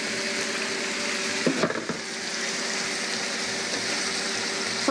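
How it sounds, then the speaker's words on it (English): Leeks sauté in a pan with a steady, close sizzle. A brief clatter of stirring sounds partway through, and the hiss carries on evenly afterward. "So I'm just going to saute these for about 5 minutes till the leeks are soft."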